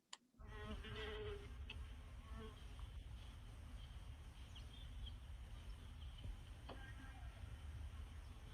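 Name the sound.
mason bees flying around a nesting habitat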